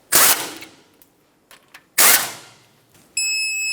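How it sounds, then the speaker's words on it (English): A torque wrench tightens the rear brake caliper bolts to 26 foot-pounds on a 2008-2010 Ford F-450, with two loud, sharp ratcheting bursts and small clicks, then a steady high electronic beep at the end. "Tighten this up and then torque it to 26 foot-pounds"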